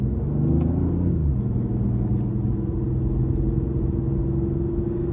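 A 2019 BMW i8 hybrid with a turbocharged three-cylinder engine and electric motors, heard from inside while driving: a steady, loud low engine drone with harmonic tones that shift pitch early on as it pulls, continuous throughout.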